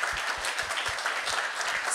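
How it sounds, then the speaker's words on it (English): Applause from a ceremonial city council meeting audience in Corpus Christi, a steady wash of many hands clapping at once that holds evenly throughout, fairly close and loud, with no talking over it. "let's give them a big round of applause"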